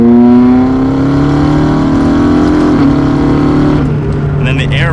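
A tuned McLaren MP4-12C supercar engine drones steadily from inside the car while driving, a loud sustained low hum with a slight rise in pitch before easing off near the end.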